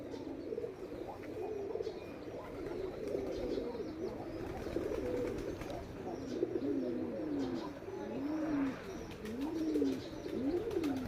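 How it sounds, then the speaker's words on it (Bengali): Pigeons at a village home coo in repeated soft, rolling phrases, with a few faint chirps and some low background murmur. "এই কবুতরটা কিন্তু একটা ভিন্ন জাতের কবুতর"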